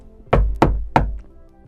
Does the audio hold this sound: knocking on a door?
yes